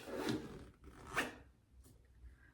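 A zipper drawn along a tightly packed travel bag, with two rasping pulls about a second apart and a softer third tug, close by and quiet.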